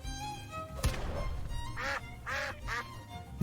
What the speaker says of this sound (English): Classic duck sound.